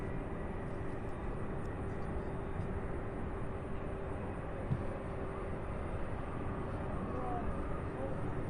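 A Boeing 767 at Louisville airport gives off a steady, moderate jet rumble with a faint whine. The sound carries on without a break and there may be faint talk beneath it.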